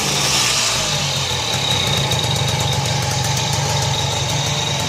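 A small Honda engine on an old beater moped idles smoothly after a cold start, with a steady, close, fairly loud putter and a faint high mechanical whine, and no talking.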